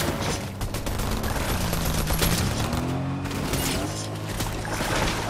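Gunfire in the video game Fortnite, rapid bursts of automatic shots crackling close and loud over a rumbling vehicle engine, with a few separate sharper cracks mixed in.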